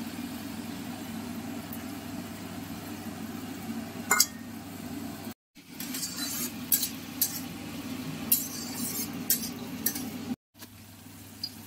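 Sliced carrots and beans fry in a pan for fried rice, with steady sizzling, scraping stirs and utensil clinks close by, broken by two short silent gaps.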